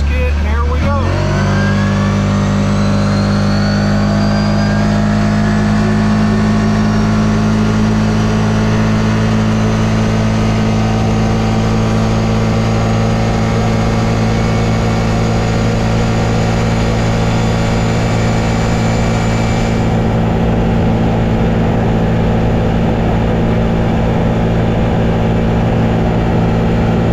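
A CFMOTO off-road vehicle fitted with an MSC Stage 1 clutch kit runs loud and steady at high engine speed, a continuous droning roar that holds for the whole stretch with no talk over it.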